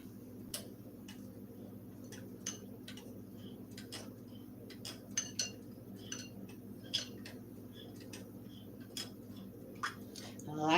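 Homemade body butter stirred in a bowl, giving a run of small, quiet clicks and taps of the utensil against the bowl at an uneven rhythm over a low background hum.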